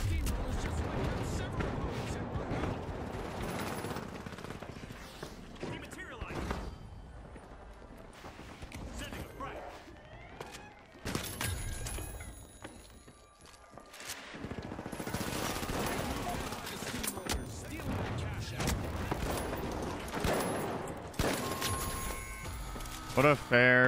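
Rapid video game gunfire from an overpowered weapon rattles in dense bursts, loud and close, with short lulls between volleys and a voice talking over parts of it.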